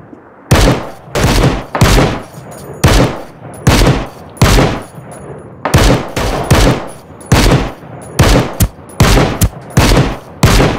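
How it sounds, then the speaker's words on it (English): Loud bursts of automatic gunfire from the video game Ring of Elysium, with short rapid volleys repeating in a steady rhythm across the whole stretch, close and punchy. "Oh, he's shooting."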